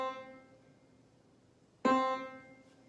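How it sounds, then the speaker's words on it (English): A single piano note struck once and left to ring, with a clear attack and a slow fade, following the soft tail of an earlier note; no voices. "On the piano, it might sound like this."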